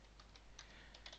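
Typing on a computer keyboard, with quick, light key clicks in short bursts, close and quiet against a low background hum.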